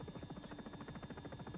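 Helicopter in flight over Prague, a faint, steady rotor thudding with a continuous buzzing drone, heard from inside the cabin and alone without talk.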